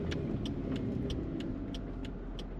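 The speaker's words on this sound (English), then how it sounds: "Today we're driving a 2000 Chevrolet Corvette." A silver 2000 Chevrolet Corvette convertible with an automatic transmission drives along, giving a steady, muted engine and road hum. A faint, regular ticking repeats throughout.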